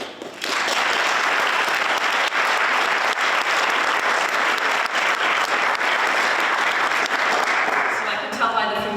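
An audience at a Lynn Woods preservation celebration ceremony bursts into sustained applause, loud and steady clapping for several seconds before it quickly fades out.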